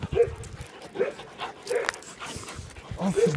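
A dog barks and whimpers at close range in short, repeated yips and whines, spaced through the moment, with some indistinct human sounds in the background.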